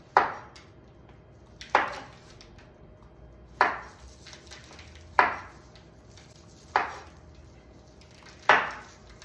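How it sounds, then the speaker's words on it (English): A knife chops zucchini on a board with six firm, evenly spaced strikes about every second and a half. Each is a close, crisp thud with a short decay, and nobody talks. "I'm cutting up zucchini"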